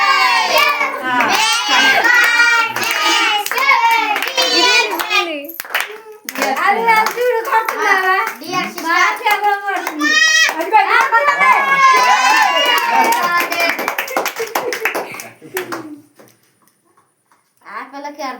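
Group of children clapping their hands in steady rhythmic bursts, close and loud, mixed with lively chattering and shouting voices, then a brief pause before the clapping resumes.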